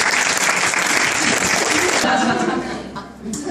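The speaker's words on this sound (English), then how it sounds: "give her a big round of applause" Audience at a New Zealand product training event bursting into dense, sustained applause with some chuckling and voices, the clapping thinning out toward the end.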